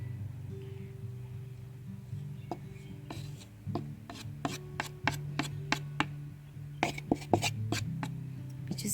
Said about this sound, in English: We just use the back of our spoon to mix it all well